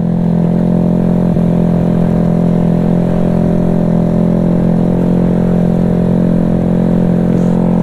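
A Vario 210cc motorcycle engine during break-in, running loud and close with a steady deep throbbing drone and rapid buzzing pulses, its helicopter-like beat holding nearly constant throughout.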